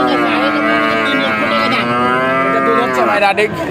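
Large cattle at a rural cattle market in Pabna low with a long, close, loud moo whose pitch rises and falls, and people talk nearby.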